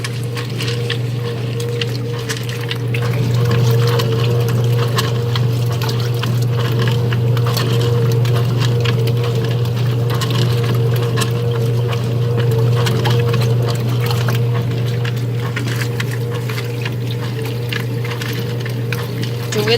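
A washing machine runs steadily with a constant low motor hum and a wash of water, close and loud, holding the same churning drone throughout with no break into draining.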